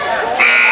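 A loud, sustained electronic buzzer sounds at the end of the first quarter in a high school varsity boys' basketball game, blaring steadily in a gym.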